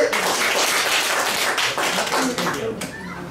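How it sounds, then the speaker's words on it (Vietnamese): An audience at a graduation ceremony breaks into dense, steady applause that lasts a few seconds, with no clear voice over it. "Vỗ tay."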